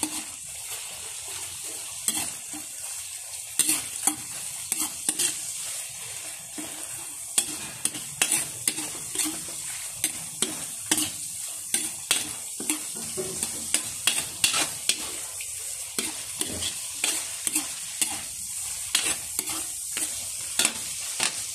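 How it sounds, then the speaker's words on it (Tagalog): Crushed shrimp stirred into a hot frying pan with other shrimp, steady sizzling and frying under repeated scraping and stirring strokes, close and moderately loud, no talk. "Ilagay na rin natin yung dinurog nating hipon."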